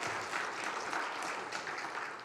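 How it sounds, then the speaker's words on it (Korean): A church congregation claps together during a Sunday service, a dense, even burst of applause filling the room at steady loudness without voices. "우리 신일섭 선생님과 우리 친구들에게 박수 한번 하겠습니다."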